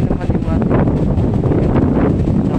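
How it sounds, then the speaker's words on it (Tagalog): Strong typhoon wind from Typhoon Kristine in the Visayas, roaring loudly and steadily against the microphone with constant buffeting and no letup. "Ang lakas ng hangin dito, grabe."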